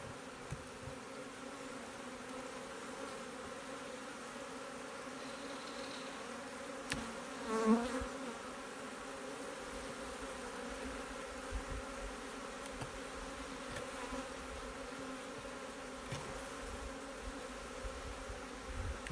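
Honeybees swarm over the frames of an open hive, making a continuous low droning hum close by, with a louder bee buzzing past the listener partway through.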